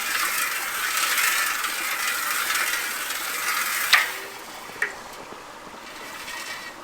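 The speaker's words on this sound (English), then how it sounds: "This is the way we spin the pan" Sand and water swirling in a gold pan at a creek sand bar, making a steady gritty wash with two sharp clinks of gravel against the pan partway through.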